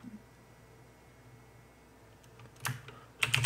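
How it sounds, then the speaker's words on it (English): Computer keyboard being typed on while entering a program into Notepad: quiet at first, then a few distinct clusters of sharp key clicks near the end, close and fairly crisp. "we're going to type in the program as he has it"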